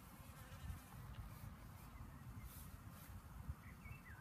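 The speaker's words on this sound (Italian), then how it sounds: "Un'ape che sta abbeverando." A honeybee hums softly at close range while drinking water from wet moss at a garden festival, a steady low buzz continuing for several seconds under faint outdoor background noise.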